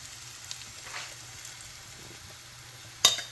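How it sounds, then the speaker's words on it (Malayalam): Ground coconut is stirred into cooking tapioca in a pan, giving a faint, low sizzle with soft scraping, quiet and steady, then a sharper clatter near the end. "അത് ജസ്റ്റ് ഇതിൻ്റെ ഒരു പച്ചപ്പ് മാറാൻ വേണ്ടി മാത്രം ഒന്ന് ഇതിലേക്കിട്ടൊന്ന് ഇളക്കിയെടുക്കണം"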